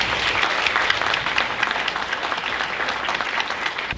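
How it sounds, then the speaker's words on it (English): Dense applause from an 8th grade graduation audience honoring students and parents, continuous and fairly loud clapping from a crowd with no voices over it. "Parents of these students, please rise for a round of applause"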